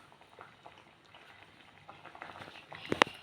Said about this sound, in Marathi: आता उकळू देते मस्तपैकी